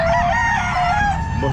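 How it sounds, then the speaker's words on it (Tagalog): Rooster crowing loudly and close at a pet market, one long drawn-out call with other chickens clucking around it. "Mga manok ni Boss Joey oh."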